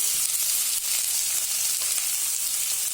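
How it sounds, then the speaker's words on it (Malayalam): Green chili, onion, ginger and curry leaves fry in a pan, making a loud, continuous hissing sizzle from close by that stays steady throughout. "ഇത്രയും സാധനങ്ങളൊക്കെ ഒന്ന് പകുതി ഗോൾഡ് കളർ ആവുന്ന മാതിരി വറക്കണം"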